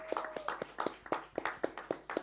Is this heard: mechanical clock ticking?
no